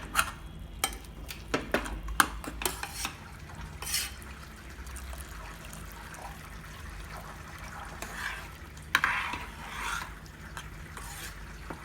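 Cooked broken wheat is mashed in a pot with a spoon, giving soft, faint scraping and squelching strokes in irregular bursts, a few sharper taps among them, and no talk.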